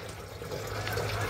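A rain-style sprinkler sprays water over a rooftop garden with a steady close hiss and patter, rising slightly in level as it runs, heard on its own.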